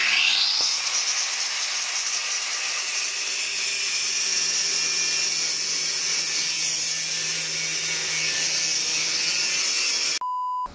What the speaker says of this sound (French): on s'amusait à faire du meulage